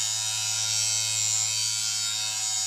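Electric lint shaver buzzing steadily as it is passed slowly over dirty, clogged Alcantara fabric, a constant close motor whine with a faint added hum near the end.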